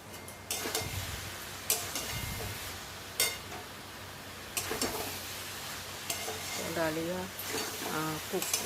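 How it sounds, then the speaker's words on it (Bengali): Curry stirred in a pot just after garam masala goes in: soft sizzling under scraping strokes and occasional sharp clinks of a ladle, with a voice talking toward the end. "এখন এই পর্যায়ে আমি একটু গরম মশলা দিয়ে দিচ্ছি, দিয়ে আবারও নাড়াচাড়া করে নেব"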